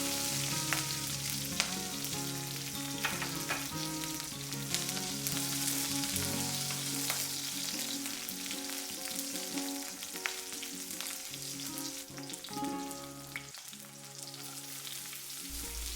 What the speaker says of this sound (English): Heat up some oil in a wok and add spring onion.